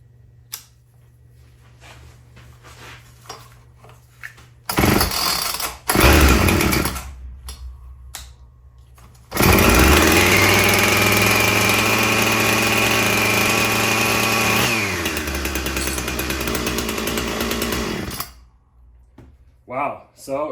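A Husqvarna chainsaw, a 240 or 460 Rancher being reconditioned, is pulled over with short loud bursts. It then catches and runs at a steady loud idle for several seconds before cutting off. Faint talk comes before it starts.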